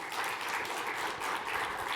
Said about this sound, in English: can we give a warm round of applause for John?